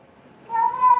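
A house cat gives a single drawn-out meow nearby, clear and fairly loud after a quiet moment, with no one talking.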